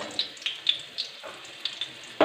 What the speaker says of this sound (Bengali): একটু লালচে করে ভেজে নেব।